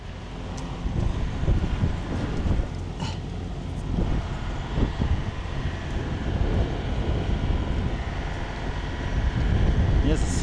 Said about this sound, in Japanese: 皆さんすごい風、 GoPro が飛んでくぐらいの風吹いてますスプリングフィールド。